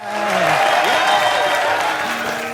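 Crowd cheering and applause at a pageant-style event, a dense, loud wash of clapping and shouts that holds steady throughout, with a tonal whistle or voice gliding over the noise.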